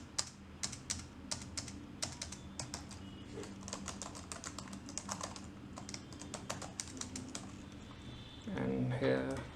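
Rapid, steady clicking of keys on a computer keyboard, fairly close, with a brief louder rustle near the end.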